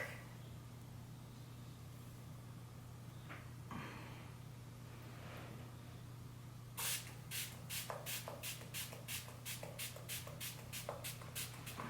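A Charged Water Skin Hydrating Mist spray bottle spritzes quietly about a dozen times in quick succession, each a short soft hiss, after a stretch of near silence over a faint steady hum.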